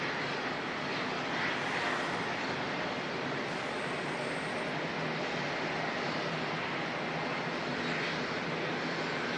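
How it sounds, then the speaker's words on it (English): Black-livery A320 pushing back at Auckland Airport, a steady broadband engine roar and whine at moderate distance, continuous throughout with no talking. "A320 pushing back."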